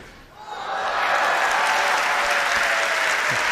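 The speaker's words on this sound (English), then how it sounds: "The crowd are going nuts." Applause from a packed crowd at the Hong Kong Open 2022 squash final, rising quickly after a brief lull into loud, sustained clapping and cheering that fills the space.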